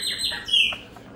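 A pet blackbird (pássaro preto) arriving to bathe gives a few bright, close chirps and whistled notes in quick succession, with no talking.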